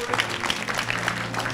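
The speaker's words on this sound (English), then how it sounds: "One more time, give the Lord a hand of applause" Church congregation applauding during a worship service, dense rapid clapping from many hands with a low sustained musical tone underneath, moderately loud.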